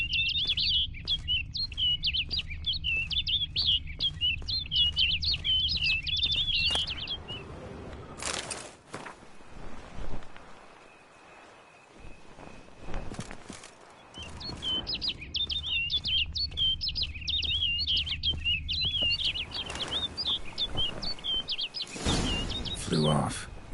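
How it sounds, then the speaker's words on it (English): In a PS4 video game, a bird chirps in quick, rapid trills that repeat for several seconds, drop out during a stretch of rustling and footsteps, then return loud and close. "Looks like the bird's leading me somewhere."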